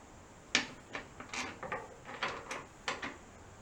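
Ratchet from a socket set clicking in short bursts while bolting up car A-arms on a Lamborghini Diablo, quiet and close, several separate ratcheting strokes with brief pauses between them.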